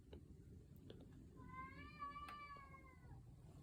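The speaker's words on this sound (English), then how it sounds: "Meow!" A single drawn-out cat meow, fairly faint, rising and then trailing off over a low background rumble.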